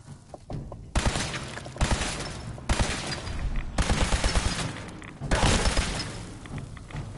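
Repeated bursts of gunfire in the video game Fallout 4, loud and close, coming in several heavy volleys with short gaps between them and no voices.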